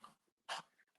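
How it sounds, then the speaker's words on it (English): A dog reacts to something in the garden with a single short, muffled bark, quiet and distant, set against a hushed indoor room. "dog's seen something in the garden."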